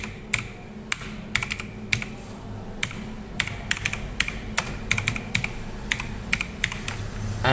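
Fingers type on a computer keyboard, a steady run of light, close key clicks with short pauses over faint background hum.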